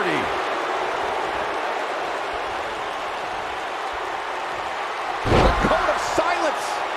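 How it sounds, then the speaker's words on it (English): Wrestler slammed hard onto the ring mat during a WWE Main Event women's match, one loud booming impact with a short rebound thud, over steady arena crowd noise and a commentator talking. "Slammed with authority."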